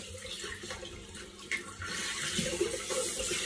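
Tap water runs steadily into a sink while hands are washed, a continuous close splashing hiss with small shifts as the hands move through the stream.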